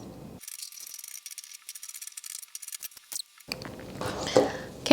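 Scissors snip through jersey fabric from a sports jersey, a close run of rapid, rhythmic crisp cuts followed by rustling fabric handling.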